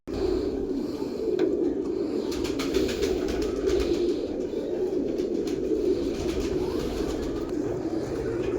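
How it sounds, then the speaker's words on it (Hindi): A white-banded breeder pair of pigeons coos in a low, continuous hum that holds steady and close, with no talk over it. "बहुत नायाब कबूतर है"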